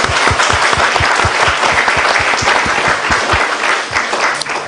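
A church congregation claps steadily for its education-department students, a dense, loud wash of many hands filling the room without pause from start to finish.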